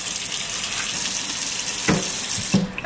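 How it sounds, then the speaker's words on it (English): A kitchen tap runs hot water into a sink in a home kitchen, a steady close hiss of flowing water with a couple of brief clinks near the end, and no talking. "I'm gonna get this water going hot."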